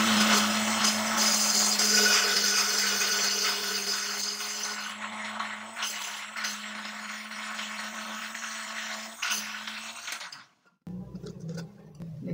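An electric grinder blends ginger and garlic with oil into paste, giving a loud, steady motor whir for about ten seconds before it cuts off abruptly, leaving quieter handling noises.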